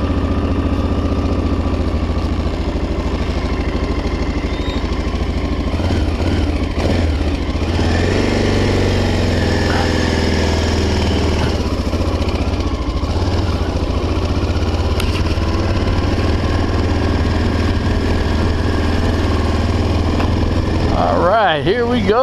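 A 1985 Honda XL600 motorcycle engine idles steadily after a kick start, a low, loud, even thumping that holds throughout, with a short rev near the end.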